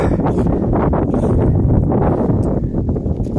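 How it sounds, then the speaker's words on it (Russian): Strong wind near Odesa buffets the microphone with a loud, continuous low roar and gusty rumble throughout. "вітер сильний дує"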